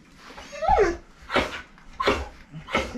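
A Maremma dog gives a rising whimper and several short, breathy vocal yips close by while being brushed, each burst separated by brief pauses.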